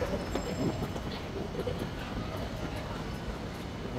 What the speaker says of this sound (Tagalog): Kaalis lang siguro yung isang MRT.